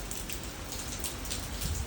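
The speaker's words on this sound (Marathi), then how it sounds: "आज एवढा पाऊस आहे तुम्ही बघू शकता बघा" Heavy rain pours steadily onto surfaces, a dense, continuous hiss with no voices.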